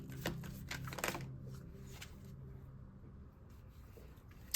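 Tarot cards drawn from a deck during a reading make quiet papery slides and soft flicks, with a couple of sharper card snaps near the start and end over a low background hum.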